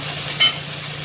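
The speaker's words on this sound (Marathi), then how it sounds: "आता आपण याला चांगलं परतून घेऊ।" Potatoes sautéing in a pan for a fasting bhagar rice dish, a soft continuous sizzle with one brief scrape of a spoon partway through, close and heard alone.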